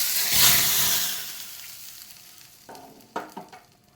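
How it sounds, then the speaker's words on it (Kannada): Hot ghee tempering of mustard seeds, cumin and chilli poured into cucumber saaru bursts into a loud, close sizzle that gradually dies down, followed by a few light clinks. "ಈಗ ಒಗ್ಗರಣೆಯನ್ನು ಇದಕ್ಕೆ ಹಾಕಿಕೊಳ್ಳುವ."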